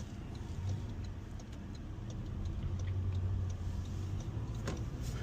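A Toyota Tacoma TRD pickup truck cruises down a street, heard from inside as a steady low engine and road rumble with faint small clicks and rattles, with no talking.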